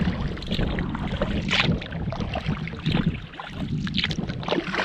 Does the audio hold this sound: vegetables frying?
no